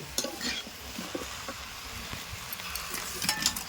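Cabbage and green peas frying in a wok, a steady sizzle under irregular close stirring scrapes and light utensil clinks.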